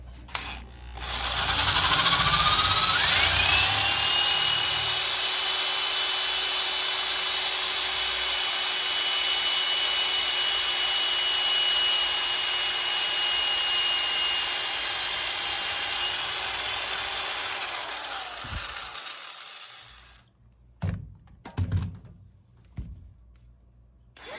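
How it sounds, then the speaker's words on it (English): A steady, loud mechanical whine of a drill boring through a metal block, its bit in a pre-drilled hole during fastener repair, grinding continuously for about fifteen seconds, then stopping, followed by a few scattered knocks and clatters. "Insert the drill bit into that drilled hole and let the drill do the work."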